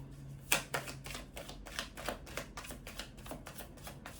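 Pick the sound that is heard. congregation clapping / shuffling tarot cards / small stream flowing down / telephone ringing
shuffling tarot cards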